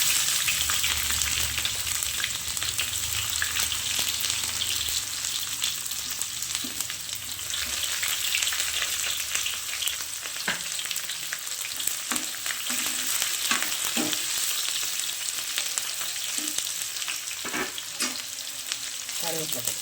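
Small onions sizzle steadily in hot oil in a pan for traditional sambar, with a constant close frying hiss and occasional scraping clinks from stirring.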